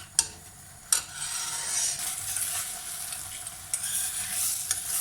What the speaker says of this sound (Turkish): Suyunu çekene kadar böyle ara ara karıştırarak kavuralım